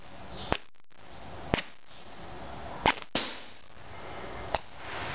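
An adjustable pressure relief valve venting in short sharp pops, four or five crisp cracks spaced irregularly over a quiet background, similar to CO2 pellet gun shots.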